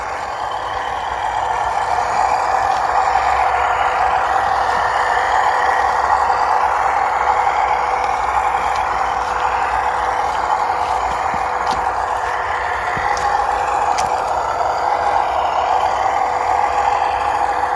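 A WPL C54 RC crawler truck on a C24KM chassis with V4 tyres climbs a wet, slippery trail, its small electric motor whining steadily and loudly up close, with faint rattles and clicks of the chassis, no talk.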